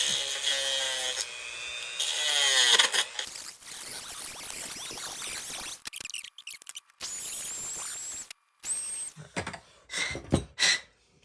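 A Dremel rotary tool grinds away plastic posts inside an Adventure Force Double Fire toy blaster, with rough, uneven grinding bursts and a brief high whine of the spinning bit, all close and fairly loud.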